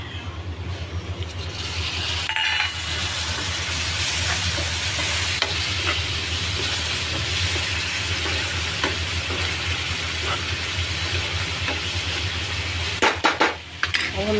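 Spices and chopped tomatoes frying in a pan for poha, a long steady sizzle with stirring and occasional metal utensil clinks against the pan, plus a cluster of sharper clatters near the end.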